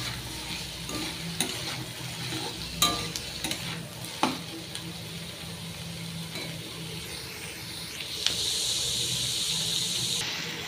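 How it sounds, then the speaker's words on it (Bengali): Potato pieces frying with onion in a hot pan, a steady sizzle with occasional sharp stirring scrapes and clinks, a faint running-water hiss toward the end. "আলুটাকে এবার ভেজে নেব।"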